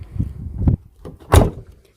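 Remote-controlled sliding door on a van moving open: a few mechanical thuds and clunks spaced out, then a louder latch clunk near the end, close by with no talking.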